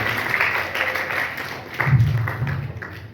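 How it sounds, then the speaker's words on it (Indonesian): An audience at a seminar on election history in Surabaya applauds, a moderate burst of clapping that swells near the end, somewhat distant in a hall. "Beri aplaus untuk Anda semuanya"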